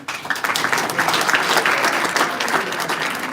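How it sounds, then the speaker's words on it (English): Steady applause from an audience at a convention talk show and general election event, filling the whole stretch with dense, even clapping and no clear voices. "A round of applause for you."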